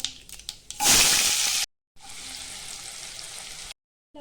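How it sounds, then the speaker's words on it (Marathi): Mustard seeds, cumin and chopped onion hitting hot oil for chana fry, a loud burst of sizzling that settles into a steady hiss and cuts off abruptly twice, with a few clicks at the start. "तेल तापलं त्यात आपण आहे ना अर्धा चमचा मोहरी अर्धा चमचा जिरे एक वाटी कापून घेतलेला कांदा टाकू आपण"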